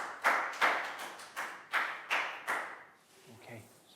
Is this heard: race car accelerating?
no